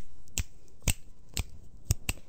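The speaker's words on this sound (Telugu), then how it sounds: "చిటికలు" Five crisp finger snaps ring out alone at a steady, slightly uneven rhythm, each sharp and close against a quiet background.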